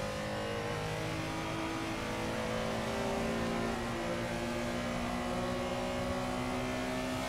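A Porsche Carrera RSR race car engine drones in Assetto Corsa, a steady, loud, buzzing engine note with strong harmonics held in gear, with no talk over it.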